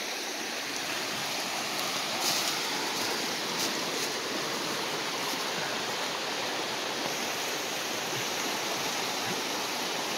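Steady broadband rush of water pouring through an old dam at an abandoned fish hatchery in Maine, continuous and fairly loud with no voices.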